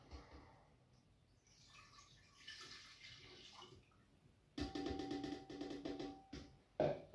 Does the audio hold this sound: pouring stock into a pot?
yes